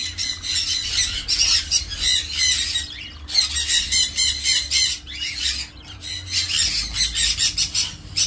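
Sun conures and monk parakeets at a breeder's sale screech and squawk in dense, shrill bursts, loud and close, with brief lulls between volleys and no talking.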